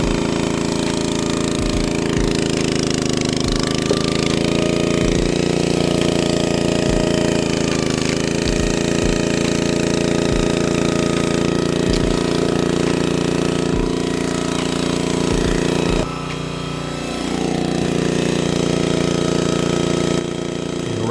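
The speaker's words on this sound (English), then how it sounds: "I'm pretty sure this is a Husky vertical and horizontal splitter" A Husky gas-powered vertical log splitter runs with a loud, steady engine drone, while sharp heavy knocks and thuds come at irregular intervals as big logs are worked, and the engine note changes partway through.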